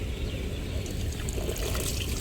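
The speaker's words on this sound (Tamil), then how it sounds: "தண்ணி டேங்கு இது திறந்தோம் அப்படின்னாவே தண்ணி எல்லாமே வரும்." Water pours steadily from an opened water tank at a waterfront in Sharjah, a continuous rushing trickle heard close and fairly loud, with no talking.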